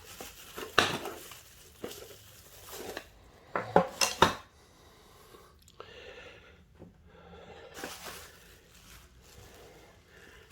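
Metal camping cookware pots, lids and a kettle clink and clatter in irregular bursts, close by, with quieter rustling and handling between the louder knocks.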